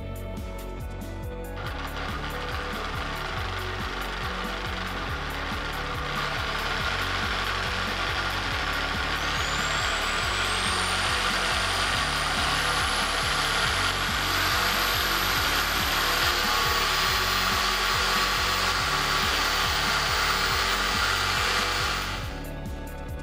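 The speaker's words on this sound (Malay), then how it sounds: "Mesin drill saya ni agak kasar sikit bunyi dia sebab mesin drill ni hari tu dah rosak." A small budget drill press running with rough, harsh-sounding gears after being repaired, a steady loud mechanical whine and grind that climbs in pitch as the speed is turned up, then cuts off near the end.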